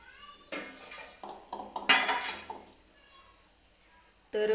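Metal cooking pot set onto a stove for veg pulao, a few sharp clanks and clattering knocks, close and loud against a quiet kitchen, with a final bump at the end.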